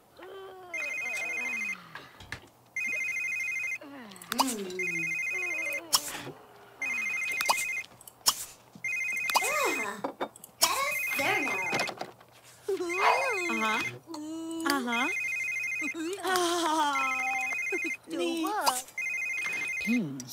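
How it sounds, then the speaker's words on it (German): A telephone rings repeatedly in The Sims 3, its electronic bursts recurring at a steady rhythm over roughly twenty seconds, loud and clear beneath near-constant talk from a player. "Nein, scheiß Telefon."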